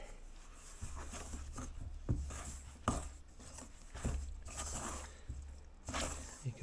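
Pot pie dough for Quebec cipâtes is worked together in a bowl, giving soft squishing and patting thuds in uneven pulses, close and fairly quiet.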